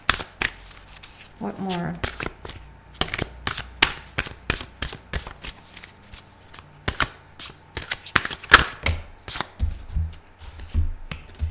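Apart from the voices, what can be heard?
shuffling tarot cards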